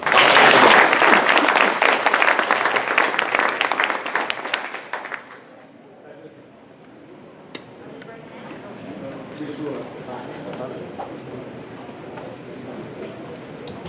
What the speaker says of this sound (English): Let's give a huge round of applause for Dr. Duncan.